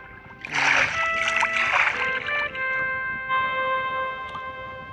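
Splashing water sounds in Minecraft, a couple of bursts early on, then steady ambient hum and tones with faint background noise.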